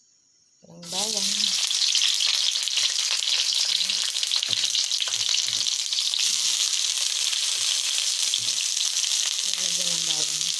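Onion and garlic hitting hot olive oil for Filipino garlic fried rice, a sudden loud sizzle that stays strong and steady, close up, with brief bits of speech at the start and end.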